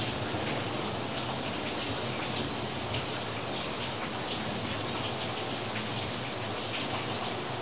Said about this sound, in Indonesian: saya akan menambahkan air dari termos, bukan dari air rebusan ya